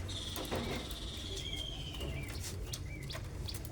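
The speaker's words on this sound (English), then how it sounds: "Those are canaries." Male and female canaries give faint, thin chirps and short trills over a low background hum, several scattered calls at moderate distance.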